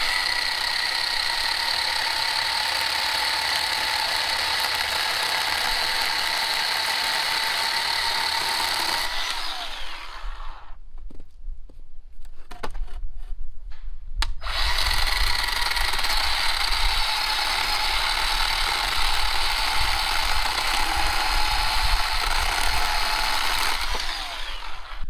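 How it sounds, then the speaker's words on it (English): A Harbor Freight 20-volt cordless chainsaw with a 10-inch bar runs loud and steady through wood, a whining motor tone with a brief pause and rough gap near the middle before cutting resumes. "It's only a 10-inch saw. It's only 20 volt."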